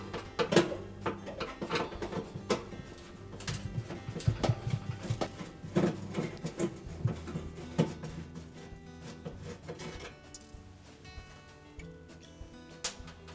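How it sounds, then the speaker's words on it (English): Repeated small metallic clicks and clatters of a screwdriver removing two screws that hold the temperature sensor to the back wall inside a Frigidaire range oven, close and fairly quiet, with uneven bursts and pauses. "we're going to remove 2 screws that hold that sensor to the back wall in the upper left hand corner"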